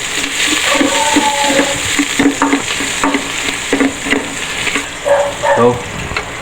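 Sliced onion frying in hot oil in a pan for beef pares, a loud continuous sizzle close by with scattered stirring scrapes and clinks.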